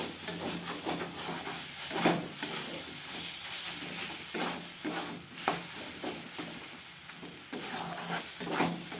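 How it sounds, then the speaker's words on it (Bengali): Green peas stir-fried in hot oil in a wok, a soft background sizzle broken by repeated scraping, rubbing spatula strokes at an uneven rhythm, fairly quiet and close, without voices. "একটু ভাজতে হবে যাতে মটরশুঁটির কাঁচা গন্ধটা চলে যায়"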